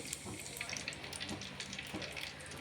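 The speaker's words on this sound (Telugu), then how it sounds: "మసాలా దినుసులు అన్నీ కూడా వేసుకోవాలండి ఇలా వేగుతున్నాయండి" Whole spices fry in oil in a clay pot as the first step of chicken dum biryani. The sizzle is faint, crackly and close, and stays steady through the short moment.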